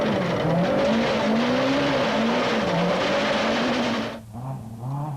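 A 1998 Tour Natal rally car, heard from inside, blasts through a tight forest stage, its engine revving hard and rising and falling through gear changes before a sudden lift off the throttle near the end.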